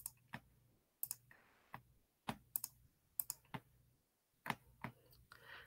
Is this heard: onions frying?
no